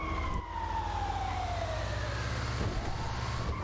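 An ambulance siren from Grand Theft Auto V wails steadily over continuous game engine and traffic rumble, its tone sweeping slowly downward and holding loud and close throughout.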